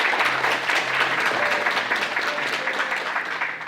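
Steady applause from an audience at an academic award ceremony, a continuous wash of clapping hands throughout.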